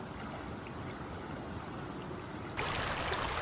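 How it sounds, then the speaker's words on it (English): Illilouette Creek rushing past a Yosemite campsite, a steady, broadband wash of flowing water that swells louder and brighter near the end, with no voices. "I found myself drawn to the Illilouette besides our camp, watching the water rush endlessly downstream"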